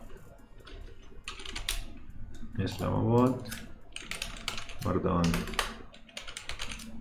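Keys clatter on a computer keyboard in quick irregular bursts throughout, while someone speaks over the typing in the middle.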